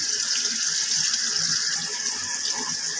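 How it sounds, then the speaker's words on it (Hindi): Onions dropped into hot oil for chana pulao hiss and sizzle steadily and loudly from start to finish, a dense unbroken frying noise close by. "अब मैं इसमें प्याज डाल रही हूँ और प्याज को मैं गोल्डन ब्राउन करूंगी।"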